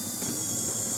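A Meccano model of a Grey Fergie tractor, built to Plan 248, runs its mechanism in reverse, giving a steady, close mechanical whir with a faint ratcheting, gear-meshing texture and a thin high whine throughout.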